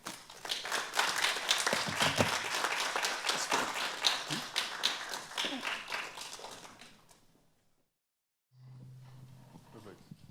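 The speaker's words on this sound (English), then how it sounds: "I'd like for everyone to just give another round of applause for Eli." An audience at a University of Toronto talk claps loudly and densely for about seven seconds, fades to silence, then a low hum comes in.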